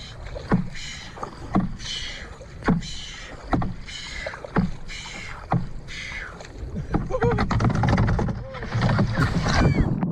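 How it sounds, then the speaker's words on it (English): Rowboat paddling in a video game, rhythmic splashing oar strokes repeating about once a second, followed by a louder stretch of churning water and game sounds. "I will say paddling boats like that is quite difficult."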